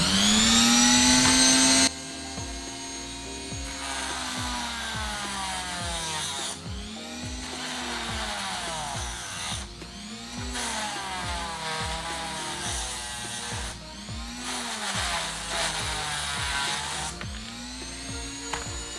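A power tool cuts into a plastic Nerf Alpha Hawk blaster, starting with a loud high whine, then a steady buzzing grind with repeated rising and falling pitch sweeps as the blade bites in, close and continuous.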